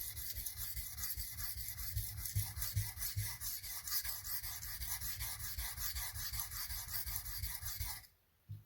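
A tanto knife blade being sharpened freehand on a stone, a steady rhythmic rasping scrape of metal back and forth, close and continuous for about eight seconds, then stopping abruptly.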